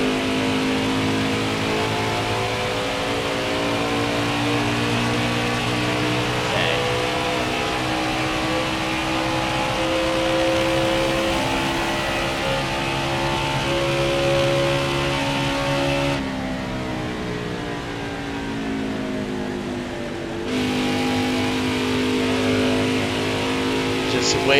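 An Indy car racing in NASCAR Heat 4 roars close up, its engine pitch climbing and falling as it revs through corners and shifts gears. The engine runs nearly continuously, with a voice talking over it.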